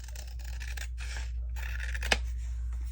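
Scissors trim a craft piece in several close, dry snipping strokes with short pauses between, one sharp click standing out near the end, over a low steady background hum.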